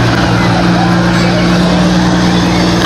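A big tow truck from Brandon's Towing rumbles by pulling a float in a Christmas parade, a loud steady engine drone with a strong low hum throughout, close and continuous.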